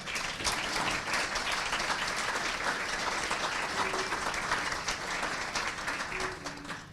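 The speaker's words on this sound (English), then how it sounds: "how about a big round of applause for our city?" Sustained applause from a gathered audience at a city's annual state-of-the-city address, steady and dense clapping filling the room for about seven seconds without letting up.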